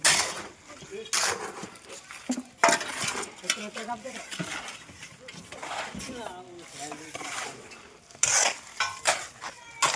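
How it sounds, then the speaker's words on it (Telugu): Masons mix cement mortar at a site where a 9-inch brick wall is going up, with scraping and clattering bursts of tools in the mix, under ongoing talk. "మాల్ అయితే కలుపుతున్నారు."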